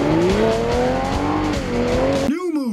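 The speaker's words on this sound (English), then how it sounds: "Rev up your engine." A car engine revs with rising and falling pitch while tires squeal loudly, then the roar cuts off abruptly into a brief swooping tone near the end.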